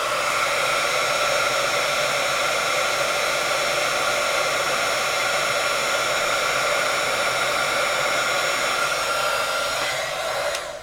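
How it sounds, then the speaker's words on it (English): An embossing heat gun blows a steady, loud, unbroken hiss over a card for about ten seconds before cutting off at the end, with no talking. "I'm just going to hit that with the embossing, or the heat gun"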